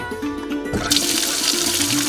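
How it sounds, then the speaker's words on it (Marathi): Water bursts out through the flush valve of a Mitra GrapeMaster Blast+ vineyard sprayer tank after a brief lull, becoming a loud, steady rushing gush that continues to the end. "टाकीतील पाणी कमी करण्यासाठी किंवा पूर्णतः काढून टाकण्यासाठी फ्लश वॉलची सुविधा"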